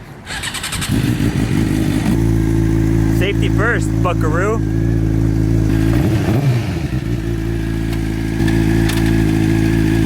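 A motorcycle engine runs loud and close, revving up and down repeatedly, with someone briefly speaking over it.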